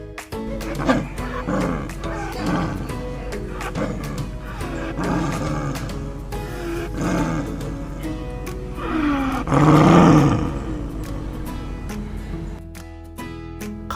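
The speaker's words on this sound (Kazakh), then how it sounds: "Барыс. Барыстың баласы алан." A cartoon snow leopard lets out a loud roar that swells near the end, set over steady background music with no talking.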